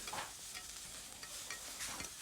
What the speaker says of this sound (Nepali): यसलाई मजाले चलाउनु होला, एकछिन यसलाई चाहिँ फ्राई हुन दिनु होला